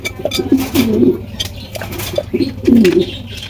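A single yellow stretcher pigeon coos in repeated soft, throaty phrases, close by, with a faint background hum between calls.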